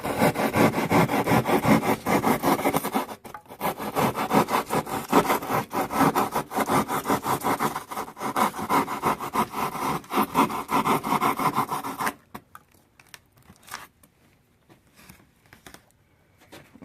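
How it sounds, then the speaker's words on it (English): A coping saw cuts through a styrofoam rock being shaped for a dollhouse basement landscape, giving steady, rapid rasping strokes for about twelve seconds before stopping, after which only faint scraping and handling remain. "now we're just kind of shaping the front face of the rock using a coping saw"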